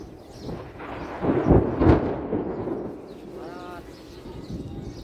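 A deep roll of thunder swells and fades in the distance, while a faint voice and light background noise carry on under it.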